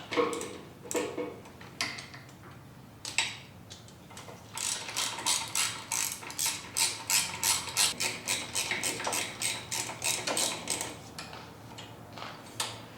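Hand ratchet tightening bolts on a Harley-Davidson M8 engine, starting with a few scattered clicks and then settling into a long, steady run of rhythmic, close ratcheting clicks.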